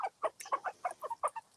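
Chickens cluck and squabble in a garden, hens and cockerels fighting over a piece of ham; a close, busy run of short clucks and squawks comes in quick bursts without any talk.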